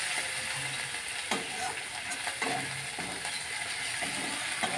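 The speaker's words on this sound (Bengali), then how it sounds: "দেখো পেঁয়াজটা ভাজি ভাজি হবে।" Chopped onions frying in a pan with whole cinnamon, a loud continuous sizzle broken by several scraping stirs of a spatula, near and without speech.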